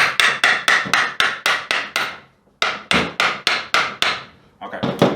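A hammer delivers sharp, rapid metallic taps seating the flange on a rear differential of an AWD 2007–2011 Honda CR-V during a power transfer unit upgrade, two quick bursts of about ten evenly spaced blows separated by a short pause.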